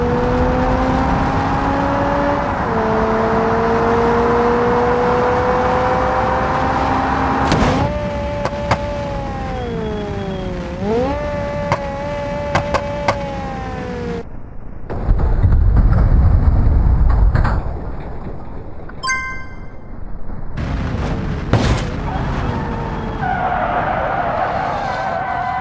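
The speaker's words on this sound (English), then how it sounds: "Honda S2000." Honda S2000 in a video game driving hard, a rising engine whine with gear changes followed by a loud tire skid and impact noises, then the engine resuming briefly.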